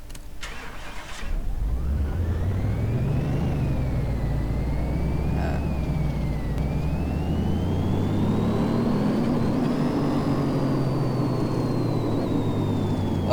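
Supercharged Dodge Challenger Hellcat V8 in the game Car Mechanic Simulator 2018, fitted with a new exhaust system, starting up with a loud close roar then revving up and down continuously as pitch rises and falls.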